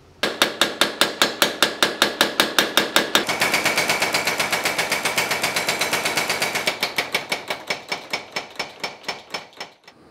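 A mechanical power hammer forges a Japanese knife blade, pounding in a fast, steady train of sharp metallic blows that blur into a dense roll in the middle before separating into distinct strikes again, loud and close.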